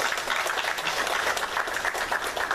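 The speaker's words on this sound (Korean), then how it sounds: "박수로 환영하도록 하겠습니다" A church congregation at a Sunday worship service claps to welcome a deacon back, a dense, steady round of applause lasting a couple of seconds with no gaps.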